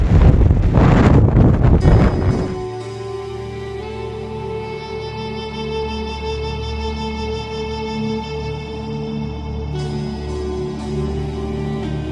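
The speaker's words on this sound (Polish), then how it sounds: "Jaka wichura!" Strong gale on a winter bicycle trip in Pakistan, roaring loud and close in a buffeting burst against the microphone for the first couple of seconds, then settling into a steadier tonal drone with humming whistles for the rest.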